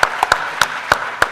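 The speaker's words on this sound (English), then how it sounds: "So one more round of applause for this amazing team." An audience gives a round of applause at the closing of a neuroscience research symposium, heard as a thin run of about six distinct, evenly spaced claps rather than a full crowd roar.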